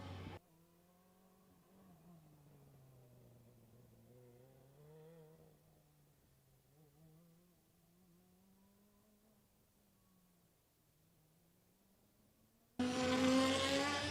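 Formula Student race car rounding a hairpin turn before the last slalom at an endurance event in the Balkans, its engine note a steady, wavering drone rising and falling in pitch at a distance, with a loud burst of noise at the very end.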